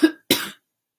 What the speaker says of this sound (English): Here we go, coughing again, but it's like in my gut.